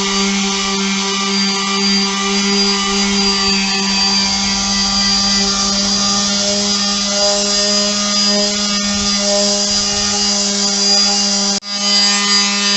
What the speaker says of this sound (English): the mouse sander is in action